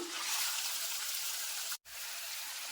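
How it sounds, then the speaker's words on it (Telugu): Washed prawns dropped into hot oil in a kadai give a steady, close, broadband sizzle lasting throughout, briefly cut out once near the end before the frying hiss resumes. "ఆయిల్ వేడెక్కిందండి కడిగి పెట్టుకున్న రొయ్యల్ని వేసుకుంటున్నాను"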